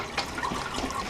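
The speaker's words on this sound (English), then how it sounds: "The water flows right down behind this step." Rainwater runs down behind an outdoor step into a cleared drain during the rainy season, a steady close trickle and splash of flowing water with no voices.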